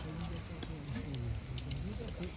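Mutton curry bubbles in a pot over a fire at a rural village feast, a faint, steady sizzling and simmering with soft pops, fairly quiet and close.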